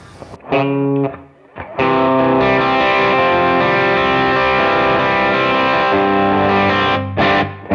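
An electric guitar through a Timmy overdrive pedal on an HX Stomp plays a brief stab and then a long, loud, sustained overdriven chord ringing out alone, with no talking.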